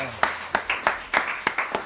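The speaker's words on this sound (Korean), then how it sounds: "우리 좋으신 하나님께 영광의 박수 드리겠습니다" Scattered hand claps from a church congregation, several distinct sharp claps spaced irregularly over a brief stretch, with voices or singing murmuring underneath.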